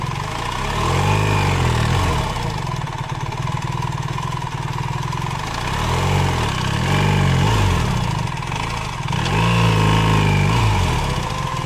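A BMW 1300 GS Adventure motorcycle struggles in second gear on a single-track trail with logs. The engine runs continuously at a low, throbbing note and swells in several revving surges, loud and close, with no one speaking.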